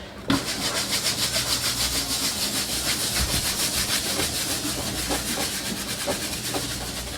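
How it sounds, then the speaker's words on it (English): A handheld scrub brush scours a stubborn, dirty surface during household cleaning, a rapid rhythmic back-and-forth rasping that keeps up steadily for about seven seconds, close by and alone. "Okay, I have my handy dandy scrub brush."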